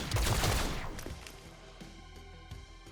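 Gunfire in the video game XCOM: Chimera Squad, a heavy burst of rapid shots up front that decays into a reverberant tail with faint later thumps.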